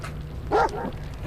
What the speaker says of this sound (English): that's their dog, the golden lab there